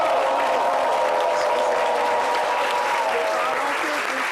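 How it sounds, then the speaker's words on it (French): An audience applauds steadily, a dense even clapping that carries on at a constant level throughout. "On applaudit encore."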